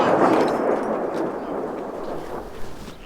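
A Russian artillery shell lands near Ukrainian homes in Virnopillia, a heavy, loud blast whose rumbling boom decays slowly over a few seconds, with no voices.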